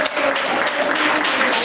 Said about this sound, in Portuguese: Mas palmas glorificam o nome de Jesus.